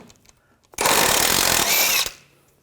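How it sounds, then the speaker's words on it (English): A power impact tool spins off the axle nut of a 2000-2006 BMW X5 3.0L with a 22mm socket, one loud continuous burst of rattling machine whir lasting just over a second, close up with faint workshop quiet around it. "Using a 22mm socket, we're going to take this nut off."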